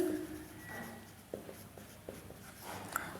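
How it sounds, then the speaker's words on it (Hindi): Pen or pencil writing out a math equation by hand on paper, faint scratchy strokes with a few light taps, close but quiet over a soft room background. "यहाँ पर लिखेंगे कि"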